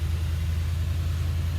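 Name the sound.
2021 Mercedes-AMG GLE63 Coupe engine starting and idling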